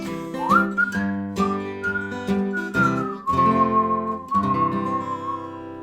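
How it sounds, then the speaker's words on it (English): A person whistles a melody, clear and close, with bright sustained notes that glide between pitches. "Whistle."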